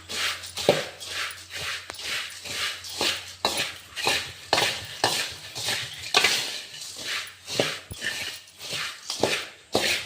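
A spoon mixes green chilli chuda with roasted gram powder and sugar powder in a metal vessel, giving repeated scraping and clinking strokes in a steady, close rhythm with no talking.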